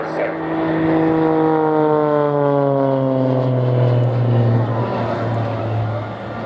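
A propeller aircraft flies past at the Farnborough International Airshow, its steady droning engine tone loud and sustained with harmonics that slowly fall in pitch as it passes.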